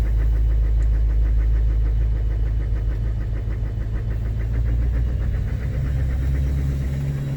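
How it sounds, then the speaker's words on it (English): An LBZ diesel truck engine idles rough just after a cold start, a loud, close, continuous low rumble with an uneven, slightly knocking pulse and no voices. "And so you can just hear the trucks running."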